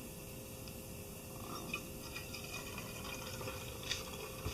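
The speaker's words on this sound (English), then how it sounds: "now you can hear it dripping fairly quickly" Coffee drips through a BonaVita single-cup pourover coffee maker, a faint, quick patter of small drips under a quiet hiss of room noise.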